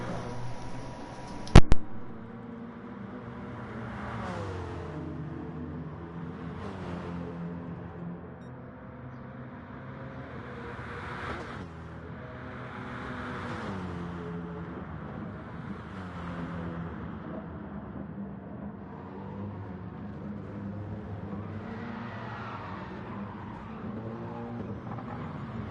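Race cars, an Acura NSX and a BMW, lapping in GT Sport at Lago Maggiore, their engines droning and rising and falling through gear changes at a steady moderate level, with a brief sharp click near the start.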